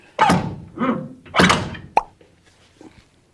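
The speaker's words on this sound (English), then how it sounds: "you're going to catch the inner bearing, and the inner bearing is going to catch the inner seal, and it's going to pop all that stuff out at one shot" Brake rotor being pulled off the front hub of an OBS Chevy C3500 dually, a few dull metallic thunks and knocks followed by a sharp clack as the inner bearing and seal pop out.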